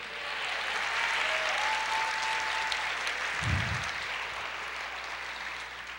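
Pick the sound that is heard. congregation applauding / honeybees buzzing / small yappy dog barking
congregation applauding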